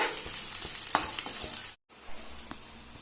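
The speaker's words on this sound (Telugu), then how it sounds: "హై ఫ్లేమ్లోనే ఫ్రై చేద్దామండి ఒక 2 మినిట్స్." Cabbage and mixed vegetables for hotel-style chicken fried rice stir-frying over high flame, a steady close sizzle with repeated scraping stirs and clicks, cut by a brief silent gap before the frying resumes.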